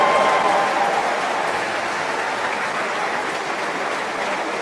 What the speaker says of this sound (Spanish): Un aplauso, Pepe López.